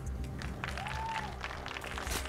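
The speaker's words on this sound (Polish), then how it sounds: "również dla niego brawa" Audience applause in an esports hall at a StarCraft 2 tournament in Zabrze, greeting the Zerg player Matiz; steady clapping fills the space, with a faint whistling tone and low hum beneath.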